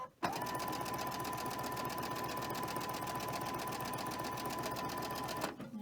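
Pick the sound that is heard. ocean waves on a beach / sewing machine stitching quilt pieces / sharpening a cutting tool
sewing machine stitching quilt pieces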